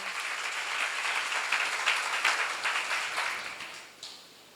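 An audience at a church seminar breaks into applause, a dense wash of many hands clapping together, loud and steady before fading away near the end.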